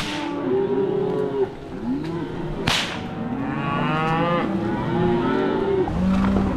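Cattle bellowing and mooing out in a hot, dry field, several long calls from nearby animals, one after another, with a sharp crack in the middle, no talking.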